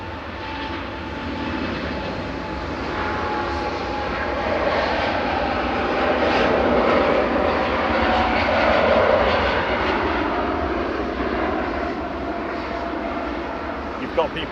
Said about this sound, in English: This is an A350-900 ETA UA 7-year-old aircraft operating this fifth freedom flight back down to Ethiopia.